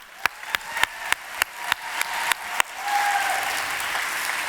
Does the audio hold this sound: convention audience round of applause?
yes